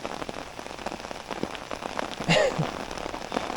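Steady rain patters on surfaces nearby during bream fishing, a dense even hiss of drops with a brief clatter partway through.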